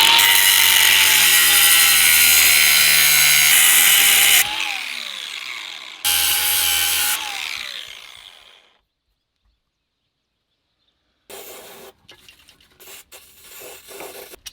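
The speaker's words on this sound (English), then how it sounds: "What I'm gonna do is I'm gonna take an angle grinder and just take these two notches" An angle grinder cuts notches off a truck mount on a Ford F-150 during an air suspension install. It screams loudly and steadily, then a second burst of cutting follows and winds down. After a silence come scattered clanks and handling noises.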